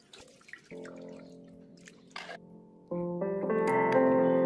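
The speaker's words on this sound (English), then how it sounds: "It's time to add water." Water is poured gently onto a container cap into a planted aquarium during a remodel, giving soft dripping and trickling splashes that swell toward the end over a tonal background.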